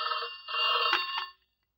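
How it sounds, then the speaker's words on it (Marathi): A telephone rings in a domestic drama scene: a close, bright electronic ring sounding in two bursts, then cutting off abruptly into silence. "आत्ता कोणाचा फोन बुवा?"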